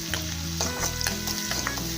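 Tomatoes sprinkled with salt sauté in a hot pan for a Tamil vegetarian lunch, a steady close sizzle with a spoon stirring and scraping now and then.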